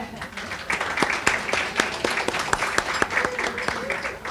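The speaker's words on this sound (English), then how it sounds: "Can we have a round of applause for our voice of God," An audience at a legislative summit claps, irregular distinct hand claps building into steady applause, with a voice faintly audible underneath.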